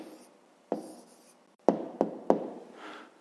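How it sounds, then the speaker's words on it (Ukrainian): A pen writes an answer by hand during a fifth-grade maths exercise, with faint scratching strokes and several sharp taps of the pen against the paper, close and quiet. "Записуємо відповідь. Пишемо відповідь."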